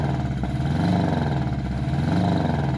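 A car engine running rough idles steadily with an uneven, lumpy note, its low throbbing wavering throughout.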